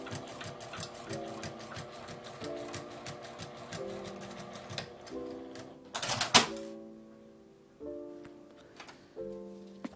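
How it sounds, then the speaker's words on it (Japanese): A sewing machine stitches a curved L-shaped zipper in quick rhythmic bursts separated by short pauses, with a sharp clatter near the middle; close and fairly quiet. "直線ラインまで来たら下まで縫います。"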